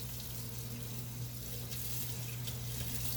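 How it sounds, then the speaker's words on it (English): Tap water runs steadily into a sink while paint is rinsed off hands, a continuous close hiss and splash with no talk. "now let's rinse it off and see how much more of the paint has come off"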